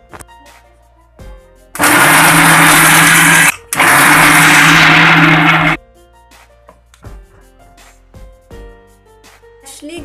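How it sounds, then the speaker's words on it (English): Kitchen mixer grinder roughly grinding fresh coconut in two loud bursts of whirring motor noise, roughly two seconds each, separated by a brief stop, with quiet kitchen sounds before and after. "Now roughly grind the coconut."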